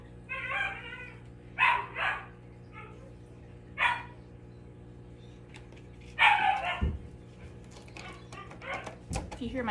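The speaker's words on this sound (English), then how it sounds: "You hear my dog in the background," An excited dog playing at home gives several whimpering yips and short barks in scattered bursts, moderately close, with soft handling knocks between them.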